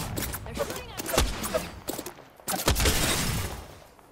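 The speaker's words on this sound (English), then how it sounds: "They're shooting at me." Gunfire in the battle royale game Apex Legends: several sharp bursts of shots in clusters over a few seconds, loud and close, with some clattering between volleys.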